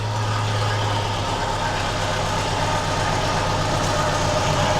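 A 4x4 engine that was bought cheap and is under repair idles steadily nearby. It gives a constant low rumble with an even hum the whole way through and no voices.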